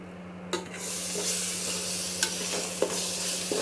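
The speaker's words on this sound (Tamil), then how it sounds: "தக்காளி வதங்குற வரைக்கும் வெயிட் பண்ணுவோம்." Tomatoes sautéing in oil for chicken biryani burst into a bright, steady sizzle after a quiet start, with a few spoon clicks against the pan.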